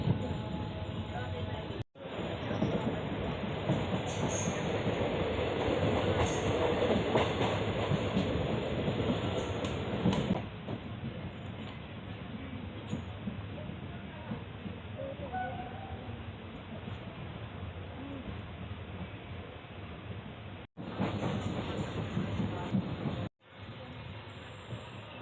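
Guruvayoor Madurai Express passing Kundara railway station in Kerala, a loud, sustained rumble of wagons and wheels with faint squeals, a voice talking over it, and brief dropouts before the noise resumes.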